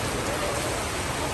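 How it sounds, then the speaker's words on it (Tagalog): Heavy rain pours steadily in a dense, even hiss, close and constant for a brief moment, with no distinct voices. "Lakas ang ulan."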